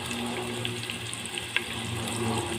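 Chopped onions fry in hot mustard oil, producing a steady, close hiss of sizzling with a single sharp tap partway through and no voices.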